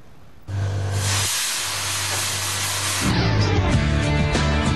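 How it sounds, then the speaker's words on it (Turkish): A loud, steady hiss of pressurized steam from an anti-theft steam alarm system bursts on abruptly and keeps blasting, growing rougher and louder partway through, with no voices. "fuarın en ilginç ürünü ise hırsızlara karşı yapılmış olan buharlı alarm sistemi"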